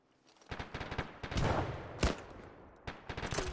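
Rapid bursts of gunfire in the Arma 3 military video game, with a frag grenade thrown during a firefight, sharp loud shots repeating in clusters with a heavier blast near the middle and a final volley.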